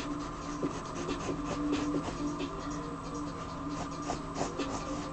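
A pencil scratches across sweatshirt sleeve fabric during freehand drawing, with close, steady, rubbing strokes in quick uneven bursts over a low background hum.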